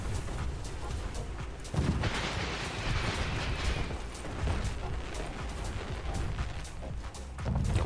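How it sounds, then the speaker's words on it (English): Aggressive fireworks go off outside, heard as a continuous dense rumble of rapid crackles and booms, muffled and distant, with a few louder swells. "Why are they doing such aggressive fireworks on the 5th,"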